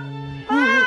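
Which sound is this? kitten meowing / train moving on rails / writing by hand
kitten meowing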